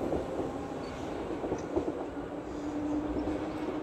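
A Class 777 electric train pulls away from Seaforth and Litherland station, a steady rolling rumble and hum that holds level throughout with light rail clatter, heard from the platform without talk.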